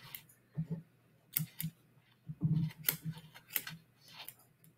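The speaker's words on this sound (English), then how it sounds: "So I'm just going to keep doing little snips until I cut through." Scissors snipping through green felt while making a machine-embroidered felt doll, a series of quiet, close, crisp cuts in small clusters with pauses between.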